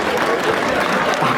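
Audience at an Onam tug of war championship in Bahrain clapping, a brief, steady patter of many hands with some crowd murmur mixed in.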